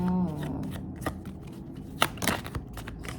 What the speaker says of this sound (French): Regarde-moi toutes ces cartes qui tombent.